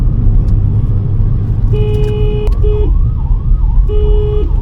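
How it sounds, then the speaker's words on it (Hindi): Ambulance siren wailing in rising and falling sweeps on the NH44 highway, cutting through the steady roar of car traffic with a few horn-like steady tones, fairly close and loud with no talk. "ये एम्बुलेंस को भी रास्ता नहीं दे रहे, देखना"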